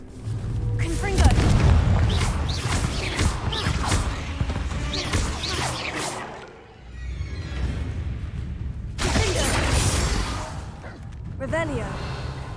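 Confringo blasting spells fired in Hogwarts Legacy, a string of heavy booming explosions with crashing debris and whooshes, loud and close, with a short lull midway before another burst.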